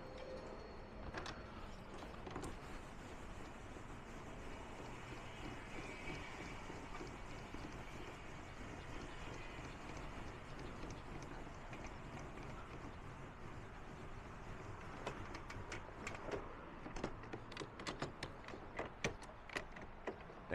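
The awning of a Benimar Sport 363 motorhome is retracted with a long, faint mechanical whirring and scraping, with scattered small clicks and knocks toward the end, set against wind noise outdoors.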